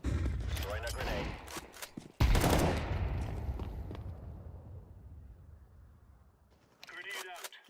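A grenade thrown in the game Counter-Strike 2 bursts in a loud, sharp blast about two seconds in, then rumbles and decays over several seconds amid gunfire and game noise.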